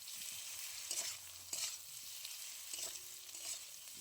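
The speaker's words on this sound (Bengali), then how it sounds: "খুব ভালো করে কষিয়ে নেব আলু সোয়াবিন একসাথে" Potatoes and soybean chunks fry in hot oil with ground coriander and turmeric, a soft steady sizzle broken by scraping stirs of a spoon against the pan.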